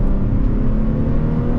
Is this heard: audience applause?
no